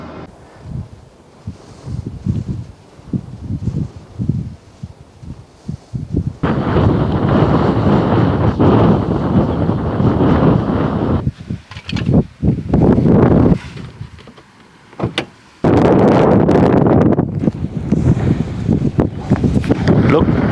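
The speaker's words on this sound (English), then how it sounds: "I'm not going to talk a lot out here because it's very windy" Strong wind buffets the microphone in loud rumbling gusts, rising and falling, with a person talking underneath early on.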